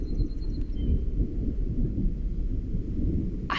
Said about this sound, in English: but that was thunder